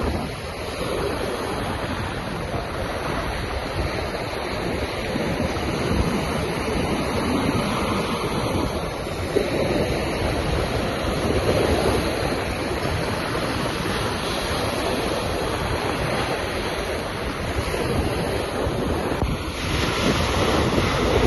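Sea waves surge and wash continuously onto Bakkhali beach, a steady broadband roar of surf mixed with gusting wind buffeting the microphone, loud and unbroken throughout with no voices.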